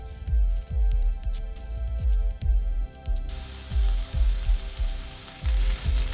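Onions sauté in a pan for puff pastry filling, giving a soft sizzle with repeated stirring scrapes in an uneven rhythm, close and fairly quiet.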